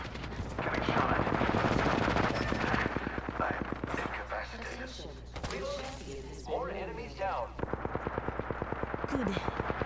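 Rapid automatic gunfire in Apex Legends, dense bursts of shots close by, then repeated rhythmic firing with a character voice speaking intermittently over the battle.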